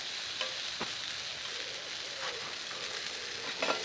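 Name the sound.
steak frying in a hot pan over a campfire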